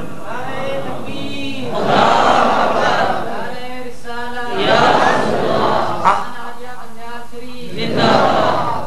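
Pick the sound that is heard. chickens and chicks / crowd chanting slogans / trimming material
crowd chanting slogans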